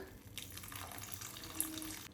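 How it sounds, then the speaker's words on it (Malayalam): Hot water being poured from a half glass into paneer masala gravy in a pan, a soft continuous splashing and trickle that is fairly faint, with no talk. "ഇതിലേക്ക് അര ഗ്ലാസ് വെള്ളം ഒഴിക്കുന്നുണ്ട് ചൂടുവെള്ളമാണ്"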